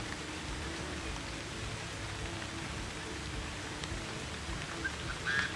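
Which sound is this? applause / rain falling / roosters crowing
rain falling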